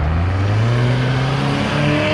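A car at an Oktoberfest car show rolls past close by, its engine a loud, steady low rumble with a slight rise in pitch as it goes, no voices.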